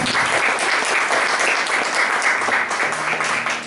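A church congregation bursts into steady, dense applause, loud and sustained throughout with no pauses, a faint voice surfacing near the end.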